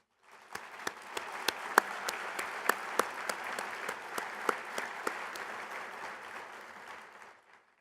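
An audience claps to welcome two new staff members at an organization's meeting, a steady round of applause with a few sharp, close individual claps standing out, lasting several seconds before tapering off.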